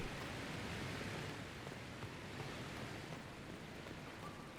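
A steady rushing waterfall at an execution ground in the video game Dragon Age Inquisition, a faint, continuous broadband hiss with no other sounds.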